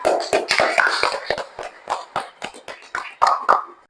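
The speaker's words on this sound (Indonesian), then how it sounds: "Tepuk tangan untuk semuanya." A small group in a classroom claps for ranked winners, a handful of distinct, sharp hand claps in uneven bursts that fade out after a few seconds.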